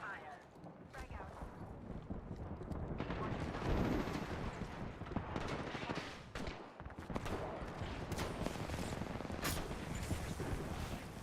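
Rapid bursts of gunfire in the video game Apex Legends, loud and dense with overlapping shots and explosive cracks throughout, mixed with game effects and a voice speaking at times.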